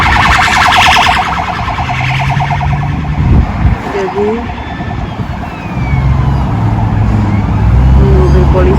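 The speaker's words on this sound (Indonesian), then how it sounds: "mobil polisi lagi ada yang datang lagi teman-teman." A police car siren wails over idling traffic in a total jam on a summer holiday road, rising and falling at moderate distance while someone talks close by throughout.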